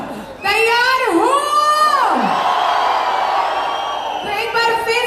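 A large live-event crowd at an AWPL Vijay Rath program in Kullu, Himachal Pradesh roars, whoops and cheers loudly and continuously for several seconds, with high shouting voices rising over the din.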